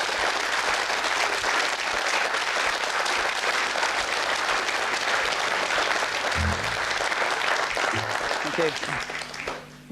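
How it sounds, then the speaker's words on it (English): Applause from a television studio audience on a 1995 late-night live show, a dense steady wash of clapping lasting nearly ten seconds that fades slightly at the very end, with faint voices underneath. "A big round of applause."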